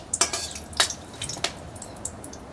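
Whole garam masala spices stirred in a hot pan for tempering: a utensil scrapes and clinks against the metal in a few close, separate strokes over a faint sizzle.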